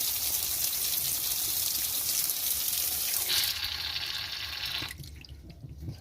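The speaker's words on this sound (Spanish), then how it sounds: "Vamos a abrir la canilla." Water runs from an opened tap beside an old Volcan gas water heater, a loud steady gush that stops abruptly near the end, leaving quieter drips.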